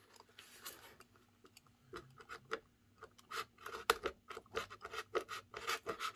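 A blade cuts through a piece of foam during an F-22 model plane repair, giving faint, irregular scratchy rasping strokes that grow busier and louder toward the end, close by in a quiet room.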